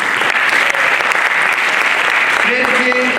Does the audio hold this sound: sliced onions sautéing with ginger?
no